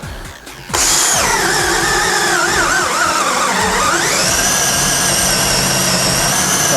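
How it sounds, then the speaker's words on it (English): An impact drill bores a hole at full power after a brief start, its high motor whine dipping under load in the middle and then steadying into a loud, continuous drone. "So we're drilling the second hole."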